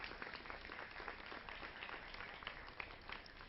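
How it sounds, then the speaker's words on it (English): Steady, fairly faint applause fills a town hall meeting as the audience claps for the high school students present, an even wash of hand claps with no break. "they deserve a round of applause."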